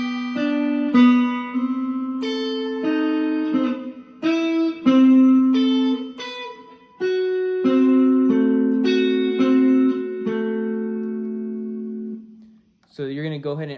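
Electric guitar plays a barre chord pattern from a song, repeated strummed chords ringing close and clear for about twelve seconds, then a brief wavering tone at the end.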